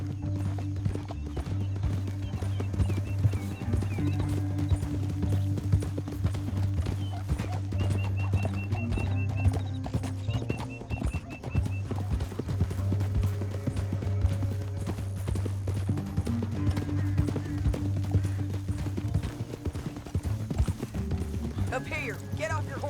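Horse hooves clip-clop steadily during a ride in the video game Red Dead Redemption 2, with rhythmic footfalls under background music and an occasional whinny as voices talk over the top.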